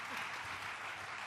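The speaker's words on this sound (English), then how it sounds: "Big round of applause for" A crowd at a live event applauds in a dense, steady wash of clapping that holds at an even level throughout.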